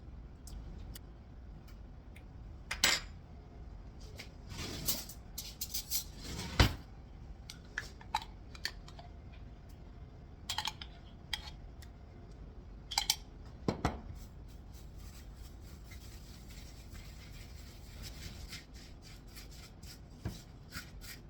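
Pistachio paste for a Dubai chocolate brownie stirred in a bowl, with soft scraping and rubbing broken by sharp clinks and taps of a utensil against the dish at irregular moments, close and fairly quiet, with no talk.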